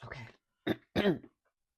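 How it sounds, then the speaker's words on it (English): A string of throat-clearing sounds and a cough, loud and close, in three short bursts with silence between, no talk. "I really need to cough"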